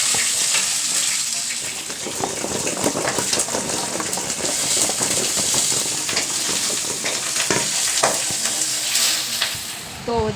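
Pointed gourd frying in a pan makes a loud, continuous sizzle close by, mixed with intermittent stirring and scraping sounds and a watery running quality, with no one speaking.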